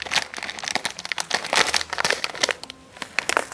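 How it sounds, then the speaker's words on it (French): A plastic couscous package is opened by hand in a home kitchen, with close, irregular crinkling and rustling bursts and a brief quieter pause partway through. "on va essayer de l'ouvrir sans déchirer l'emballage"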